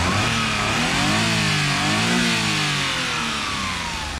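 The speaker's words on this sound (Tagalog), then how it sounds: "Goods yung andar ng ating makina." A nearby Suzuki Every DA64V mini van engine runs loudly and continuously, its pitch rising and falling as it revs, with no voices over it.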